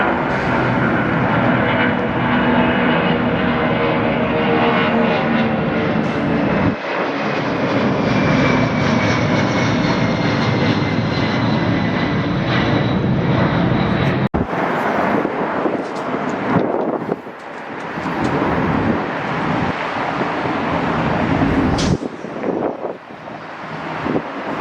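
A three-year-old Airbus A321 jet roars loudly and continuously at Atlanta airport, its engine noise shifting in tone with wind buffeting the microphone, and no voices over it.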